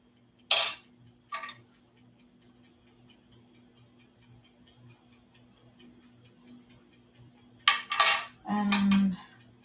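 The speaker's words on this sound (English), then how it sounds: "just quick stirs for only these samples" Quick stirring of chemical samples in a lab, likely a metal or glass stirrer tapping and clinking against containers in a soft, steady ticking rhythm, with a few louder clinks and scrapes near the start and end.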